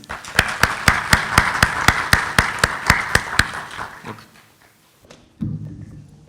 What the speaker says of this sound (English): May we please welcome warmly our professor with an applause, please.